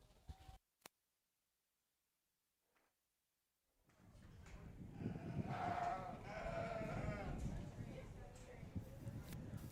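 Sheep at a county fair market sheep show bleat faintly amid crowd murmur and announcer talk after a near-silent opening with a few brief clicks.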